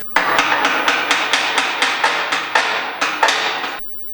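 A hammer taps a metal welding workbench part about a dozen times in an even rhythm, each strike a sharp ringing clank, close and loud, ending in sudden silence.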